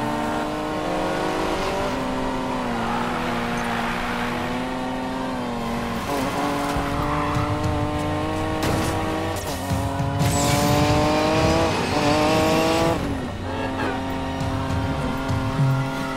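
A Datsun 240Z races in Need For Speed Payback, its engine revving high and shifting through rising gears, with tire squeal, loud and continuous over about sixteen seconds, with brief lifts between gear changes.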